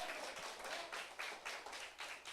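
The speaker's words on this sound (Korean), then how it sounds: "박수." A congregation at a church revival meeting claps in thanksgiving, a short burst of fairly faint, distant applause with a loose rhythmic pulse of hands.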